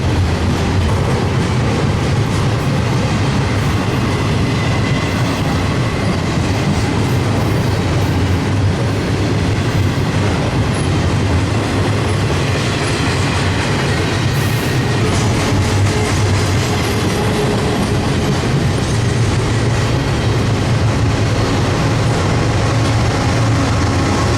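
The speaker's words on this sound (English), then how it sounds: "The first half of this train is entirely 40-foot international containers" A long intermodal freight train of 40-foot and 53-foot shipping containers rolls past close by, a loud continuous roar of wheels with clickety-clack clatter and occasional squeals throughout.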